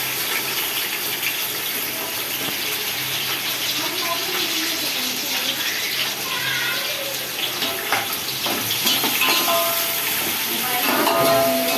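Thinly sliced onions and green chilies frying in a pan for chicken dum biryani, a moderate hissing sizzle with watery crackle and faint clinks throughout.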